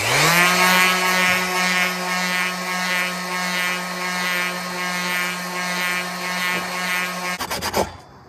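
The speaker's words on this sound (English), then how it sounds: "this sander is not wanting to do its thing" A power sander on a J24 mast restoration strains at a steady whine and then bogs down and sputters out near the end, loud and close, no voices.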